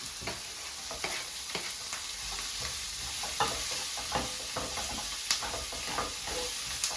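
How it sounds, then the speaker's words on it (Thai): Carrot, corn and onion being stir-fried in a pan, with a steady sizzle and repeated scraping strokes of a spatula, close and alone with no talk. "เราจะผัดให้ ตัวหอมใหญ่ของเราเนี่ยใส่นิดนึงแล้วค่อยใส่เนื้อสัตว์นะครับ"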